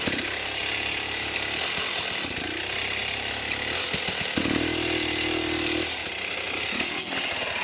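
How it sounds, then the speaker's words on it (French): Enduro motorcycle engine held at the clutch friction zone, a steady loud rasping drone with small rises and dips in pitch, close up and continuous with no talking. "Écoutez ce vélo."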